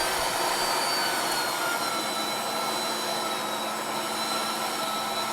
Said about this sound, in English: so we're going to grind the rest of our meat